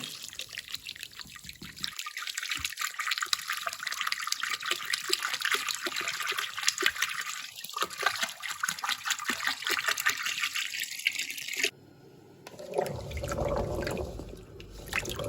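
Water pours and trickles steadily into a pot to make syrup for pumpkin jam, a long continuous flow that cuts off abruptly and then resumes as a lower, heavier splashing.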